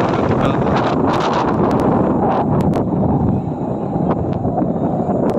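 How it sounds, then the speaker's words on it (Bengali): Strong wind rushing up over a hilltop, a steady loud roar buffeting the microphone throughout with brief crackles. "এটা পাহাড়ের টপ, নিচ থেকে বাতাস উপর দিকে আসতেছে।"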